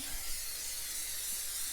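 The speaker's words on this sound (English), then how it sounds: "Just a little pan spray." A short, steady hiss of aerosol cooking spray, close and even, lasting under two seconds with no talking.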